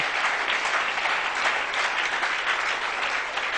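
A church congregation claps together in sustained applause, a dense, steady wash of many hands close and loud for the whole stretch, with no talking over it.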